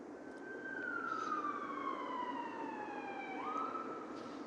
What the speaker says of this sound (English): Busy night tonight. That's the third ambulance I've heard.